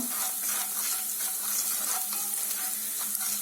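Onions frying in olive oil with salt, a steady broadband sizzle that crackles evenly throughout, with light stirring and no talking.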